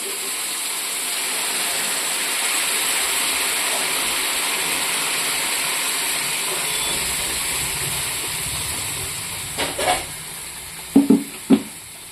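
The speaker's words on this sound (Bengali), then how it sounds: "এখানে আমি এখন গরম জল দিয়ে দেব।" Hot water goes into a pan of fried spices for a rohu fish curry, making a steady rushing hiss for about nine seconds, followed by a few brief clunks near the end, with no talking.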